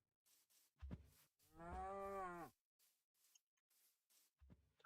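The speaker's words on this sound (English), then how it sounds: "You know, there's cows here now." A cow in a Minecraft-style vanilla adventure game gives one clear, drawn-out moo lasting under a second, set among quiet clicks and footstep-like taps.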